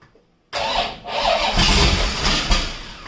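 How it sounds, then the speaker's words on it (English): A hot rod engine started for the first time cranks and catches after a moment of silence, then runs roughly and loudly, sputtering and revving unevenly, timing set too far. "this is real life trying to start a motor for the first time"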